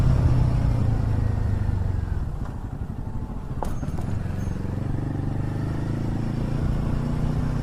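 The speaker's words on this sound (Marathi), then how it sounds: "एक गाडी आली." A vehicle passes on a dark ghat road at night, a loud low rumble that dips and then swells again, heard over the steady engine drone of a motorcycle on a long coastal ride.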